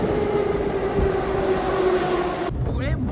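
A metro train runs through a station in the Moscow metro, a loud steady rolling rumble with a sustained tonal whine that cuts off abruptly near the end, leaving quieter ambient noise.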